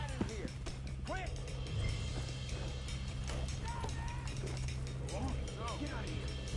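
Horse hooves clop steadily during a ride in the video game Red Dead Redemption 2, partly masked by voices and other game sounds throughout.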